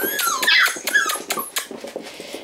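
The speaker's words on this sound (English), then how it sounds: "Hi, pretty puppies." Puppies whimpering and squeaking in short, high, rapid cries, close by, softening toward the end.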